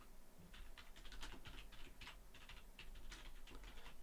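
Rapid, irregular clicking of keys on a computer keyboard as code is typed in Unity, steady quiet bursts close by, no voices.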